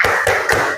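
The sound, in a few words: class doing the rhythmic 'tepuk semangat' clap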